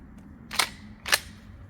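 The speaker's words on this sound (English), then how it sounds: "this is my first time shooting with this choke on as well" Two sharp, close reports about half a second apart from a shotgun fitted with a turkey choke while sighting in a red dot, each a brief crack over a quiet background.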